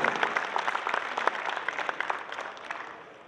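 Audience applause at the inauguration of the Expo Leche dairy fair in Aguascalientes, a steady patter of many hands clapping that rings out fairly loud and gradually thins and fades toward the end.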